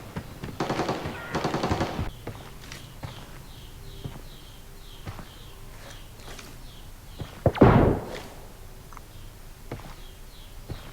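An AK rifle fires bursts in the video game Arena Breakout, two rapid volleys near the start and a louder close burst later, separated by quieter footsteps and shuffling movement.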